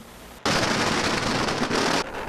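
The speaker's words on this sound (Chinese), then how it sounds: "炮声乒乒叫，肉身的邯郸爷徛甲停，接受炮仔的洗礼" A string of firecrackers bursts into a dense, loud, rapid crackle at the Taitung Handan Ye lantern festival, roaring continuously for about a second and a half before cutting off.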